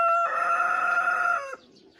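A rooster crows once, loud and close, a single sustained call that breaks off sharply, followed by quiet.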